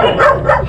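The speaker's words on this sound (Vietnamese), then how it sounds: "Nó sủa lắm mọi người" A dog at a shelter home for hundreds of dogs in An Giang gives two loud, close barks in quick succession.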